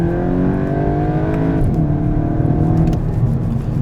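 Volkswagen Golf GTI engine revving after a downshift, a loud sustained mechanical drone with harmonics that climb and then settle, heard from inside the car with no talking over it.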